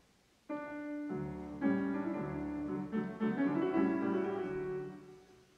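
A double bass, bowed, plays a short, slow two-measure melody from a Haydn concerto alone, with sustained notes and rich harmonics, moderately loud and close.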